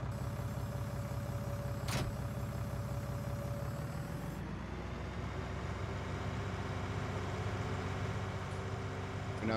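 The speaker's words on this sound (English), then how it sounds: "if the tractors are too noisy, turn it down a bit." Farming Simulator 19 tractor engine drones steadily and loudly throughout, a continuous mechanical rumble that shifts pitch midway as the load changes, with no talking.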